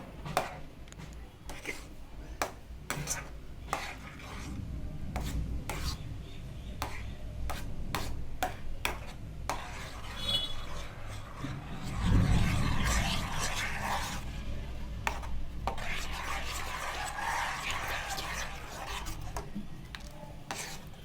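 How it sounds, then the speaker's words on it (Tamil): A spoon scrapes and stirs thickening susiyam batter in a pan, giving a long run of close, rhythmic rubbing strokes with quick clicks against the pan and a brief louder stretch midway. "நல்லா இது கட்டியாகிற வரைக்கும் நல்லா கிண்டுங்க."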